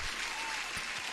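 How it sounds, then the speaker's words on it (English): During a live day-trading stream, a burst of applause sounds, a dense, uniform wash of many clapping hands at steady volume, brief and unbroken with no talking. "huge applause"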